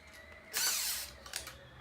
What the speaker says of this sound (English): I like to use my torque drill for everything